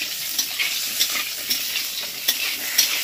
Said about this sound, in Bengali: প্রথমে পটলটাকে একটু হালকা করে ভেজে তুলে নেব।